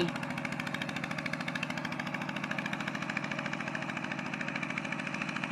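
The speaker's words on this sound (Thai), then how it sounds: "รถไถนาเดินตามประยุกเนาะค่ะเนาะ" A small single-cylinder walking tractor engine chugs steadily nearby in a rice field in a fast, even, knocking rhythm, running continuously with no talk.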